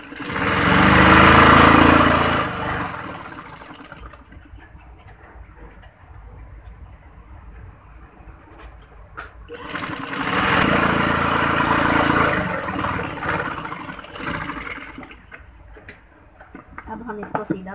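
A sewing machine stitches fabric lengthwise for a frock design, whirring loudly in two long runs of a few seconds each, with quieter pauses in between where a voice talks.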